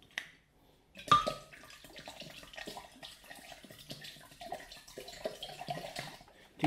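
Water is poured into a blender jug holding fresh ginger and aloe for juice, a soft splashing trickle that runs for several seconds after a short clunk, fairly quiet and close.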